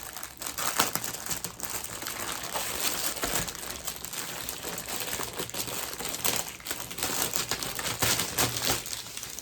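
Adhesive tape being peeled off a planner, giving a steady, close crinkling and crackling that runs through the whole stretch with small bursts, with no talking.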